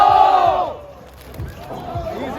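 A group of voices shouts a single word together, loud and close, with a brief burst of cheering afterward.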